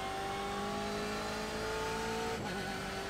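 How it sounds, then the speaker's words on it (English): A BMW M8 GTE race car in the iRacing simulator at Imola, its engine droning at high, steady revs with a brief wheel-spin flare near the end, loud and continuous with no talking. "Oh yeah, a little bit of wheel spin."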